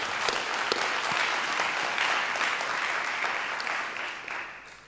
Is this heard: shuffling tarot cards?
no